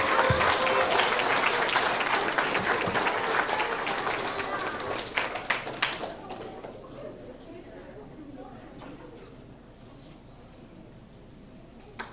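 Applause at a fourth-grade school awards ceremony, loud dense clapping that thins out and fades into scattered claps and faint chatter toward the end.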